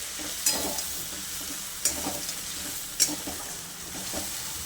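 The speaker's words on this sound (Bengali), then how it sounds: "এবার এটা দিয়ে আবার একটু নাড়াচাড়া করে নেব।" Mutton curry masala stirred in a pan with a little water added, a soft sizzle running throughout with three distinct spoon scrapes against the pan, close and moderately loud, with no talking.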